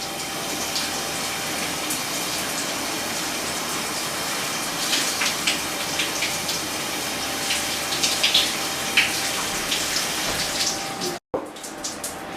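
Tap water runs steadily and fairly loudly to wet a young girl's thick hair during a home wash day, a continuous splashing rush with a few faint knocks and a brief cutoff near the end.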